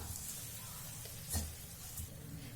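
Aval (flattened rice) mixture with raisins being stirred in a hot pan for an aval laddu, a faint soft sizzle with a couple of light scraping stirs, no talking.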